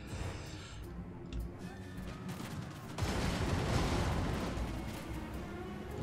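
Warp lightning cannon artillery fires in a video game battle: low crackling rumble at first, then a sudden loud blast partway through that sustains as a roaring, crackling wash.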